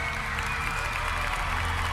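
A live show crowd claps and cheers steadily, a continuous wash of hands with a low musical hum underneath, fairly loud and unbroken.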